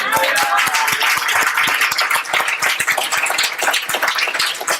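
A church congregation claps during worship, loud sustained clapping from many people with distinct individual claps heard through the crowd's noise.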